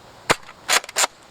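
A Nerf Doomlands Double-Dealer blaster fires darts in a few sharp, snappy pops: one single shot, then a close cluster of two or three quick shots, loud and close against quiet.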